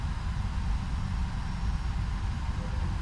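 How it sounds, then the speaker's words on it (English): A Boeing 757-200 auxiliary power unit starting up in the X-Plane 12 flight simulator, heard as a steady low rumbling engine drone with a faint high whine above it, continuous throughout and without speech. "now you can hear the APU starting in the background"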